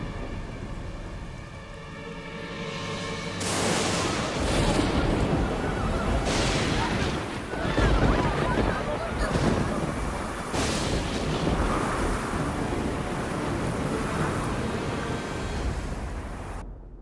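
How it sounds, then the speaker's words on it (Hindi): Howling wind and a loud, dense roar of storm noise with rumbling thunder-like bursts in an animated tale of a terrible storm sent to flood Vrindavan, swelling sharply after a quieter opening and staying intense throughout. "ये तूफान तब तक थमना नहीं चाहिए जब तक वृंदावन पूरी तरह पानी में डूब न जाए"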